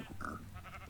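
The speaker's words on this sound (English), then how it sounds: "I think we have a few sheep we can take on now." A sheep in a video game gives a short, single bleat, a brief nasal cry heard alone over low game ambience.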